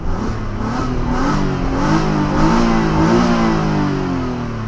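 A Ford Probe V6 revs up and down at close range in rising and falling whining sweeps, loud and steady with no talk.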